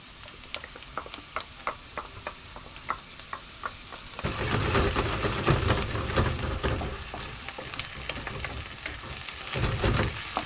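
Tomato dropped into a hot pan for a seafood rice stew, bursting into a loud, steady sizzle and crackle of frying after scattered light ticks of stirring, with no talk over it.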